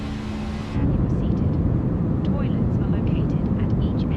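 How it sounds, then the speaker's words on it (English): Airliner cabin ambience in Microsoft Flight Simulator, aboard a Finnair A320 climbing: a steady, loud broadband engine and airflow roar that swells in after a brief quieter moment and holds constant. "I forget they have cabin sound, don't they, in this plane?"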